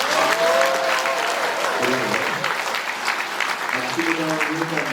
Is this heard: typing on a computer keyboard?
no